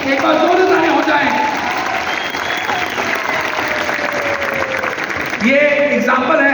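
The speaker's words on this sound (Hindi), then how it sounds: "एक बार जोरदार तालियां हो जाएं।" An audience at a business presentation breaks into loud, sustained applause that fills the whole stretch, with a voice speaking over the clapping.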